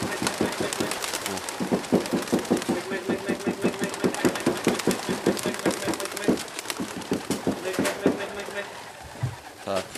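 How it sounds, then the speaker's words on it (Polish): Young racing pigeons leave the loft in Bełchatów with rapid, rhythmic wing claps and flutters, close and busy throughout, while someone speaks over them. "pojedynczo te gołębie wylatują"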